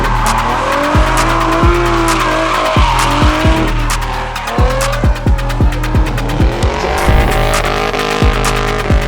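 A drift car on a Dubai drift track revs hard while its tires skid and squeal in long, loud, wavering screeches, close by, with repeated throttle blips and engine throbbing, with no talking.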